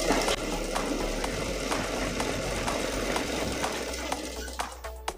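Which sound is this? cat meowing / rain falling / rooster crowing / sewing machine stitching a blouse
sewing machine stitching a blouse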